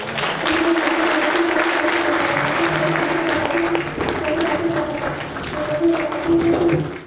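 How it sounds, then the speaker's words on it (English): An audience at Essex County College applauds during a visit by the King of Ghana, a loud, sustained round of clapping with a voice speaking and tonal sounds threaded through the crowd noise. "Let's give him another round of applause."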